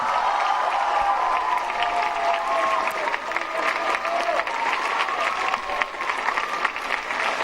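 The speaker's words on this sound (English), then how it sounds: "Can we give him a huge round of applause and cheer?" A large crowd of young people at a Catholic junior college in Singapore applauds and cheers for Pope Francis, with sustained, dense clapping and scattered shouts filling the hall throughout.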